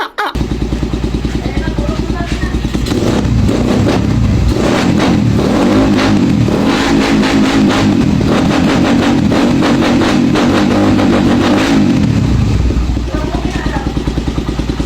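A motorcycle fitted with a power pipe exhaust revs hard and close, starting at idle, then holding a loud, steady throttle blast for several seconds before dropping back to a lumpy idle. Voices can be heard faintly under the engine.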